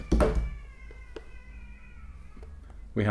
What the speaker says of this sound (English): cats fighting outside